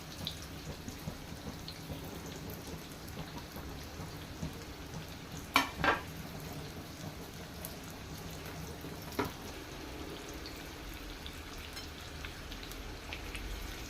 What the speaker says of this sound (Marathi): कारलं तेलामध्ये सगळ्या बाजूने छान परतून घेऊया.